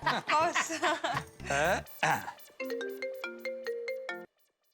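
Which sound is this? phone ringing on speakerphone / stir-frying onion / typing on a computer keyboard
phone ringing on speakerphone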